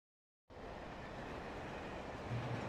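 Train in the video game Alan Wake, cutting in after silence as a steady, full rumbling roar that holds level and swells slightly toward the end, with no voices.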